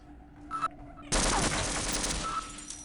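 Automated turrets in Half-Life open fire in a sudden loud sustained burst after a brief beep and quiet moment, the rapid shots continuing to the end.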